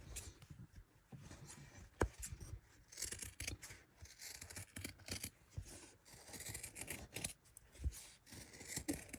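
Scissors snip through embroidery thread and fabric around an embroidery hoop. They make faint, close clicks and scrapes in an irregular rhythm, with soft handling noise between the cuts.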